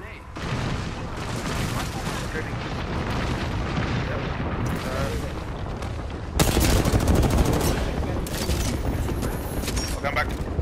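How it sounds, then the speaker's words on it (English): A thermite grenade goes off in the video game Apex Legends, a loud roaring burst that swells into a sustained crackling blaze, with gunfire and voices talking over it. "Throwing thermite grenade."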